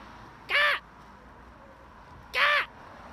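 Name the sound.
blue and gold macaw calling outdoors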